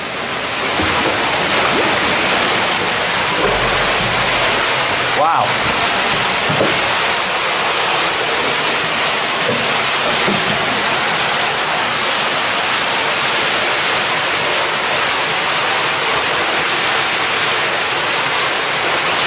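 Loud, steady rushing water roars throughout with echoing broadband noise inside an abandoned mine, and a person briefly exclaims once partway through.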